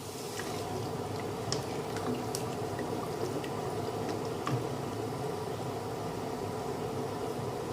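Northern Thai kaeng khae curry with mixed vegetables, fermented soybean discs and kapok flowers simmers in a pot, giving a steady, fairly soft bed of rolling bubbles and small pops with no voices.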